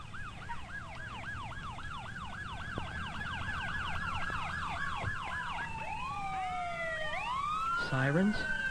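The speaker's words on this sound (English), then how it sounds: "Sirens?" Several emergency vehicle sirens wail together, one sweeping up and down in rapid cycles while others rise and fall in slower glides, loud and steady over a low rumble of traffic, with a horn-like blast near the end.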